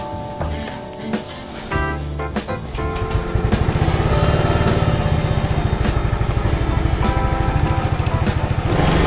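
A Yamaha Mio Gravis scooter engine starts up and settles into a steady, close, loud idle with a rapid even pulsing beat. Some clatter comes before it catches, and no one speaks.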